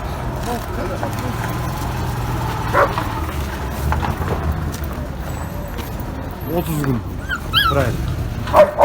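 A Tobet dog at an outdoor dog market lets out short yips and whimpering cries, loud and close, with people talking around it and low traffic hum beneath.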